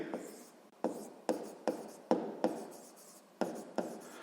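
A pen moving across paper while math exercise answers are written out: close scratchy strokes that start in repeated sharp bursts and fade, about nine in a loose rhythm.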